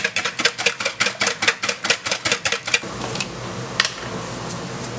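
Eggs beaten in a bowl with a whisk or fork for quiche, a quick even run of about fifteen close, crisp taps that stop partway through, leaving faint background hum.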